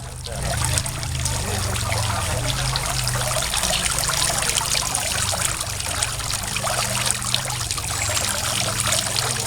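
Water poured in a steady trickling stream for several seconds during a water-element hypnotherapy exercise, close and continuous, with no talk over it.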